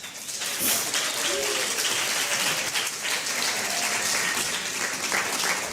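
Lively audience applause after a two truths and a lie game with Tommy, loud and sustained with dense clapping and a few faint voices mixed in.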